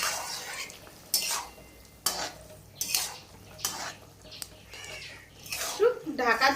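Malabar spinach curry with fried fish stirred in a pan, a run of scraping, clinking utensil strokes against metal, with a few louder knocks near the end.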